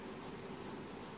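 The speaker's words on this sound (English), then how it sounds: "please do not use a harsh pencil on the paper" Staedtler coloured pencil shading across paper, a steady, soft scratchy rubbing that continues without pause, close up and alone.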